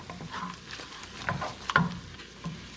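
Tomato sauce for Italian-style cooking stirred in a pan at close range, with soft scraping, gentle bubbling and a few louder spoon knocks against the pan.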